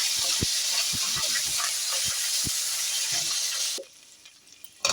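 Crushed ginger and green chili sizzle in hot oil in a pan while cooking bhoger khichuri. A bright, steady hiss is broken by sharp spatula taps, then the sizzle drops away abruptly near the end.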